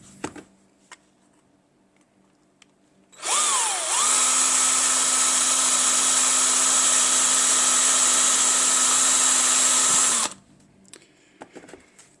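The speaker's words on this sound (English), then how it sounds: "now I think I have all 8 holes drilled" A small power drill whines steadily for about seven seconds while boring a hole in a Titanic wreck model diorama. The sound is close and even, with faint clicks and handling noises before and after.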